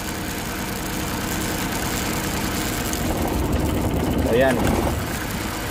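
Suzuki Multicab fuel-injected engine idling with one spark plug wire pulled, a steady uneven running rumble under a voice, with a brief rise in engine note near the end.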